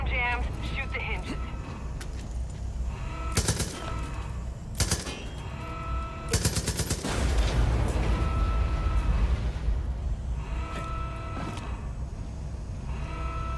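Gunfire from the Far Cry 5 game aimed at jammed silo hinges, with several sharp bursts of shots separated by pauses over a constant backdrop of game music and ambience.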